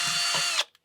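A power drill whines sharply at full speed while boring a hole in a steel combat helmet, then winds down and stops in under a second with a faint click after.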